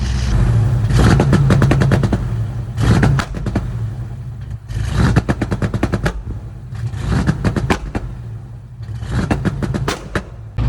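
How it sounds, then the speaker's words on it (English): A Pontiac Firebird engine revs repeatedly in bursts, its leaking exhaust and blown muffler crackling and popping in rapid rattling volleys between idle stretches; loud and close. "That exhaust leak is so gnarly."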